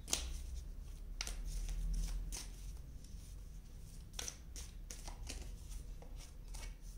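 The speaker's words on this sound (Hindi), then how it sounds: "हम यहाँ से भी कार्ड्स निकाल देते हैं पहले।" Tarot cards are drawn and shuffled, producing a quiet, close run of riffling and sliding flicks in uneven bursts, with no talk.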